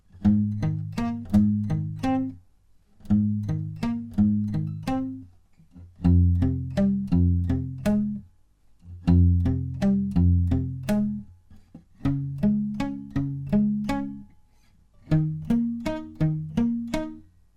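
Chugging distorted power chords on an electric guitar repeat in short rhythmic bursts separated by brief pauses, close and steady, without any voices.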